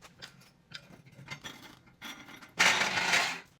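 Hand tools remove the bolt and nut from a car's lower control arm during a coilover install, with soft scattered metallic clicks and clanks, then a louder hissing, rattling burst near the end.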